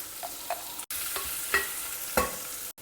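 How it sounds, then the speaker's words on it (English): Onions sauteing in a hot pan give a close, steady sizzle, with a few light spatula scrapes and brief clinks against the pan, and no voices. "saute the onions well till they are lightly browned"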